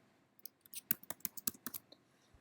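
Quick burst of keystrokes on a computer keyboard, about a dozen crisp close clicks over roughly a second and a half, fairly quiet and with no talk.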